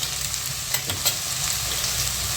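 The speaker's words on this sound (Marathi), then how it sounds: "भाजी शिजत चाललेली आहे" A mixed vegetable bhaji seasoned with hing and salt cooks in oil, giving a steady close sizzle and frying hiss with a few faint stirring clinks and no talk.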